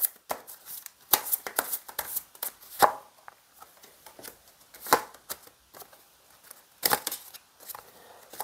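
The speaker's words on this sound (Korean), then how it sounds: "상대방 요즘 어떻게 지내고 있는지 근황 카드 뽑아볼게요." Tarot cards being shuffled and drawn in a quiet room, giving a string of crisp, close papery snaps and riffles in irregular bursts with no talking.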